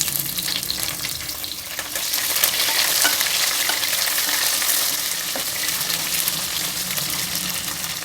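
Onion tipped into browned chana dal frying in oil, giving a loud, dense sizzle that rises and holds steady, with faint stirring taps beneath.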